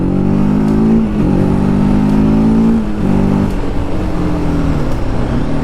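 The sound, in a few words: motorcycle engine revving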